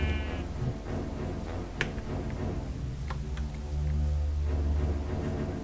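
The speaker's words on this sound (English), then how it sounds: "there be a pink sheep over there" Bleating from a pink sheep in Risk of Pain, a Risk of Rain–style game, heard in short bursts over steady game music and ambient tones.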